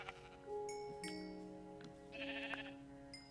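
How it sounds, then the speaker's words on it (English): Sheep in the video game Minecraft bleat several times in short wavering calls, near and clear, with overlapping bleats and no talking. "Sheep!"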